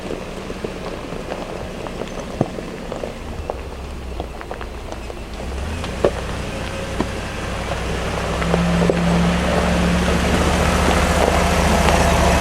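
A 4x4 truck camper rolls slowly down a steep desert hill on El Camino del Diablo, producing a low engine rumble that grows steadier and louder, with crunching, patter-like ticks from the rough track.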